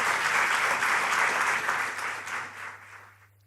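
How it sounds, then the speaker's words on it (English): An audience at an entrepreneurship discussion in Ho Chi Minh City, Vietnam breaks into strong applause that thins and fades out over a few seconds, leaving a faint low hum. "So please give them a big round of applause"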